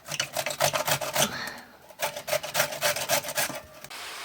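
Bell pepper rubbed against a hand grater for zucchini caviar, a rapid run of rough rasping strokes in quick bursts, close and fairly loud, with one short pause partway through.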